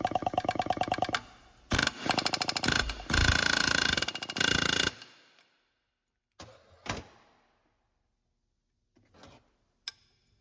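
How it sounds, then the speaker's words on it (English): A pneumatic air hammer set to low power chatters in rapid bursts while removing pins from seized running boards on a Ram 3500 truck, loud and close, followed by a few short clanks and near silence. "I had the air hammer turned down real low"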